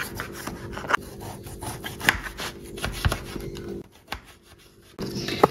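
Knife slicing limes thinly for a drink, soft rubbing and scraping strokes in an uneven rhythm with a few sharper taps against a board, quiet and close, with a brief lull near the end before the cutting resumes.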